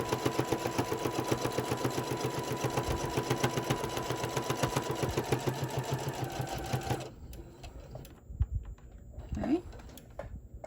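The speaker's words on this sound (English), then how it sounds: "I'm going to sew this going across the bottom" A sewing machine stitches across the bottom edge of a fabric face mask, running in a steady fast whir for about seven seconds, then stopping, followed by scattered handling noises and a brief soft voice.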